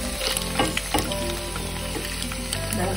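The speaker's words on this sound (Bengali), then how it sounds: "পনির একটু লাল লাল মতন করে ভেজে নিয়ে" Paneer fries in a pan with a dense, continuous sizzle and occasional sharper crackles, heard up close without any voices.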